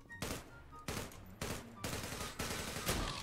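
M4 rifle fire in the online shooter Zula comes as six evenly spaced bursts of sharp automatic shots, each loud and close, separated by brief pauses.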